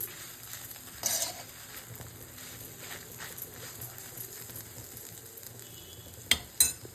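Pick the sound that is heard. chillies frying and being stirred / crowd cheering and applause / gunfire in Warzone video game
chillies frying and being stirred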